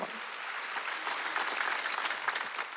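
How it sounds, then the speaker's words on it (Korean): A congregation claps hands during a Korean church Wednesday service, a dense, sustained burst of applause from many people that stays steady and fairly close throughout. "박수치라."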